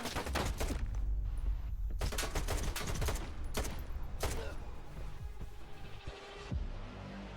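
Enemy gunfire in Stalker 2 rattles out as loud, dense bursts of shots and thuds. The bursts cluster heavily early on and thin out toward the end.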